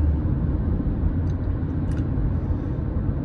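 Steady low road rumble and tyre noise inside a moving Dacia Jogger Hybrid, a continuous dull drone with no talking.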